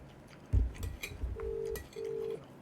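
A telephone rings with an incoming call from Singapore, giving two steady electronic ring tones close by, each lasting about half a second, after a few soft knocks and handling sounds.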